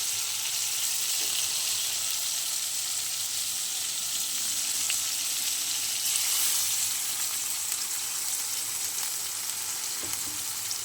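Water goes into a pan of fried rohu fish and ridge gourd curry with mustard paste, bringing a loud, steady sizzle and bubbling hiss that continues without a break.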